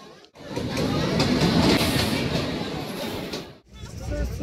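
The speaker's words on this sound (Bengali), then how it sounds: "ট্রেনে উঠে পড়েছি।" Dense, roaring noise fills a crowded Lalgola passenger train boarding at a station, with a steady rumble and a babble of many voices throughout, broken by two short dips.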